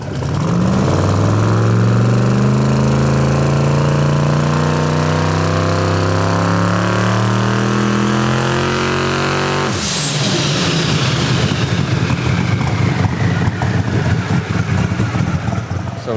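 A 3500-horsepower SMX Jeep engine drones loudly under heavy load with its pitch rising slowly, then abruptly changes to a harsh, raspy roar as the Jeep accelerates away.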